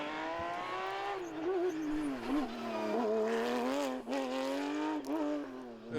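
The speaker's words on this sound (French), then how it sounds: "c'est Pieter-Jan Michiel Krako qui prend le meilleur départ avec cette toujours impressionnante Porsche 992 Rallye GT." A Porsche 992 Rally GT race car starts a rally stage, its engine note rising and falling steadily over about six seconds with a strong harmonic drone, close and loud without a break.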